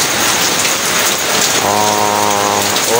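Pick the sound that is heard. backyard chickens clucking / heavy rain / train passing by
heavy rain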